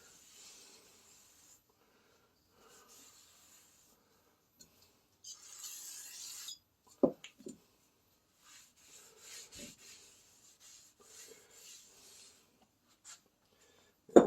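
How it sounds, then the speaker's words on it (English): A brake rotor on a Triumph Spitfire 1500's front end is scrubbed with brake cleaner: faint, intermittent rubbing and rasping strokes in short bursts, with a few sharper knocks between quiet pauses. "let's put some brake clean on there and scrub her down"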